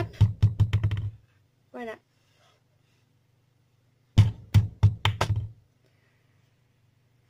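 A small toy doll with an LED inside is tapped, giving two close bursts of quick, crisp taps about a second long each, separated by a brief spoken word, over a faint steady low hum.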